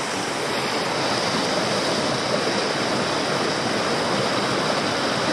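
Steady, loud rush of a waterfall, continuous broadband roar with no breaks and no voices.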